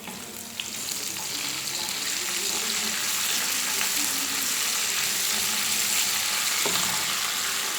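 Garlic fries in hot oil for tomato pickle, a loud, steady, close sizzle that holds evenly throughout with occasional faint stirring.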